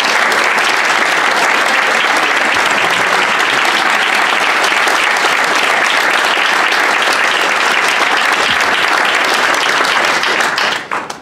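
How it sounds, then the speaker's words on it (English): A large audience at a public announcement event claps loudly and continuously, dense applause sustained throughout before tapering off in the last second. "I would like to invite everyone to give a round of applause to all of you out there"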